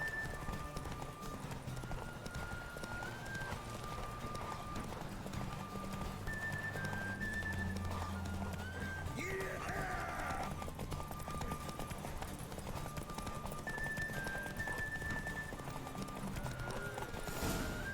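Rhythmic clip-clop of a horse's hooves at a quick pace during a horse race in the video game The Witcher 3: Wild Hunt, with synthesized tones and music underneath, continuing steadily.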